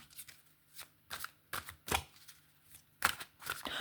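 Tarot cards being shuffled and drawn, with several short papery riffles and snaps spaced irregularly, close by and fairly quiet, with no talking.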